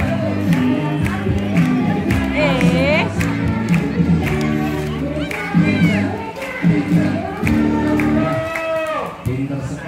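Crowd noise from an audience at a dolphin and otter show, with shouting and cheering that may include applause, running continuously under a loud announcer's voice and music.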